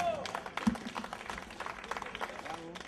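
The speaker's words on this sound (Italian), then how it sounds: "Per cui un applauso e via con la musica!" Audience applause at a talent show at an autumn festival in Gussago, Italy, as a singer is introduced; a dense patter of clapping runs steadily throughout, with voices mixed in underneath.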